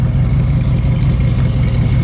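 A 1966 Ford Mustang coupe with chrome exhaust tips idles steadily, its low, even exhaust rumble close and continuous for the whole stretch with no voices.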